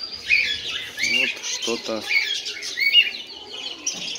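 Birds chirp and squawk in the bird section of a pet shop in France, a busy, continuous chatter of small bird calls while a person briefly speaks nearby.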